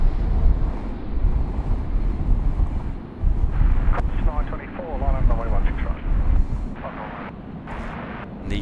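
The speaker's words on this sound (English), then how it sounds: "Rex 737 just getting over the fence there for an arrival on runway 16 right" A Rex Boeing 737 airliner coming in to land on runway 16R at Sydney Airport: a steady, fairly loud jet roar buffeted by wind noise on the microphone, with people talking over it.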